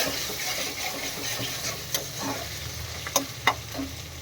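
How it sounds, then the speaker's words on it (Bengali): Onions and spice paste fry in oil in a pan, giving a continuous soft sizzle with a few sharp scrapes and knocks from stirring near the end. "পেঁয়াজটা ভাজা হতে থাকুক ততক্ষণ তো এই যে মশলা কষানো চলছে"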